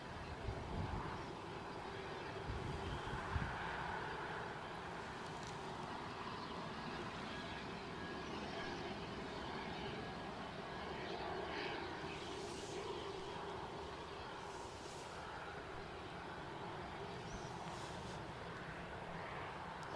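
KLM airliner departing Newcastle Airport, a distant, faint jet engine roar and rumble holding steady with slight swells, heard from afar with outdoor background noise.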